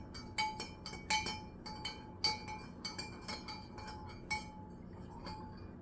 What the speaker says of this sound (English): And then we're just going to stir this up.